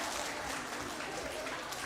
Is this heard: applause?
yes